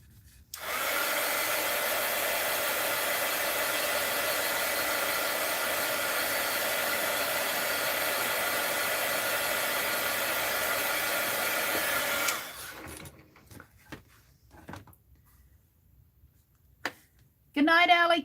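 A hair dryer blows steadily and loudly for about twelve seconds to dry paint on a doll's hat, then cuts off, leaving quiet handling noises and a brief burst of sound at the end.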